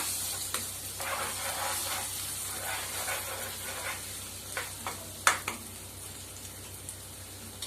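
Jackfruit and egg podimas being stirred in a frying pan: a steady hiss of frying with scraping spatula strokes, a few sharper clinks against the pan, close and without talk.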